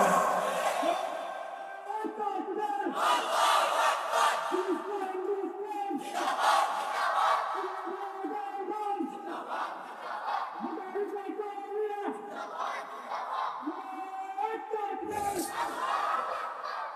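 At a Bengali Islamic sermon, a large crowd answers the takbir with loud, rhythmic collective shouts, repeating in bursts roughly every two seconds and filling the space.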